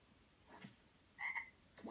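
A frog croaks faintly in the video game Dragon Ball Xenoverse 2, a few short, quiet croaks spaced apart over a low background hum.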